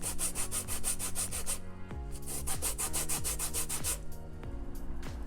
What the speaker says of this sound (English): So I'm just going to use it to get my lemon zest out.